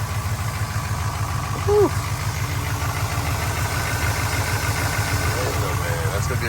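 A Chevrolet LS1 V8 idles steadily and close by with a smooth, even throbbing rumble, with a brief exhale voiced over it.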